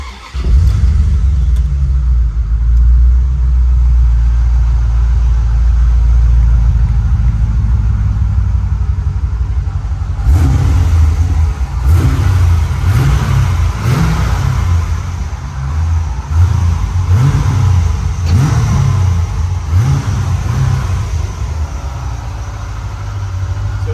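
A 1993 Corvette Callaway Supernatural 450 engine is started and settles into a loud, close idle, then gives a series of sharp revving blips that rise and fall repeatedly with no talking.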